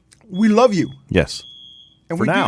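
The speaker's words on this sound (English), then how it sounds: "That's a fire alarm ready to go." A fire alarm gives off a steady, high-pitched electronic tone that holds for about two seconds, running beneath and between a person's talking.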